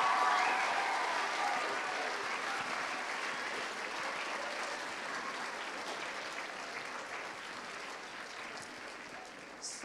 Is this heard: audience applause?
yes